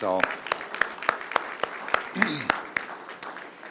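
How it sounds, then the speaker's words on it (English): An audience claps in a hall, the sharp, evenly spaced claps heard alongside a person speaking. "can we have a round of applause for Father"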